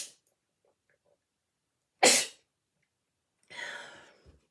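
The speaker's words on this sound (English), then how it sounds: "I did a big sneeze." A single big, sharp sneeze bursts out loudly after near-silence, followed by a softer breathy exhale or sniff a moment later.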